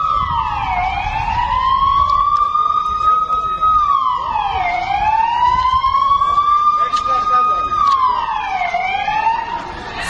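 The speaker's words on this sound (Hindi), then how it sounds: "सायरन्स लगातार एक्टिव हो गए।" Sirens wail continuously during a drone attack alert, a loud rising-and-falling tone cycling slowly several times over a steady background hum.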